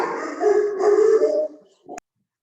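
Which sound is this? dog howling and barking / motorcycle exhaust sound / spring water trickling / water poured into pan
dog howling and barking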